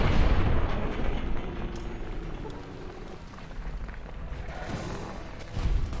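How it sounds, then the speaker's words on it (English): Grenade rifle explosions in Fallout New Vegas, heavy booming blasts at the start and near the end with rumbling debris and crackle in between, loud and close. "Actually, I have a grenade rifle."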